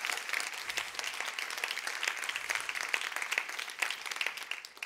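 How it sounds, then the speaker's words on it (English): Sustained applause from the audience for Alexis and James at the 2019 Renewal Awards. Many hands clap evenly throughout at moderate volume with no voices over it. "One more round of applause for Alexis and James."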